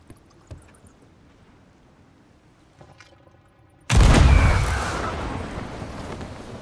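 After a few quiet seconds of faint clicks, a single loud cannon blast from a watchtower in the video game Sea of Thieves booms out and its roar trails off slowly.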